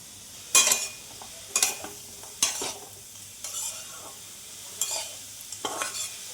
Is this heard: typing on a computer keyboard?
no